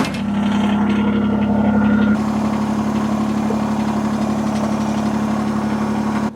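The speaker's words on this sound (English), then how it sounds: "So we'll get the tractor started up, get the outriggers lifting it a little bit," A Kubota BX23S tractor with backhoe idles steadily, its engine a continuous low droning hum, close and loud, running on without pause.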